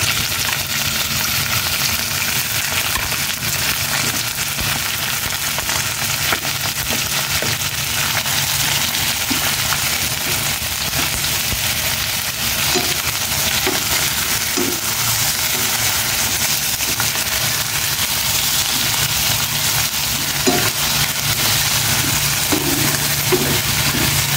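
Chicken liver and gizzard fry in a pan with a steady, loud sizzling hiss that carries on throughout, broken by occasional soft pops and crackles.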